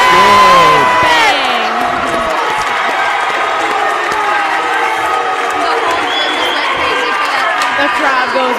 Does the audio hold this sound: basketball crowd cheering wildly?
yes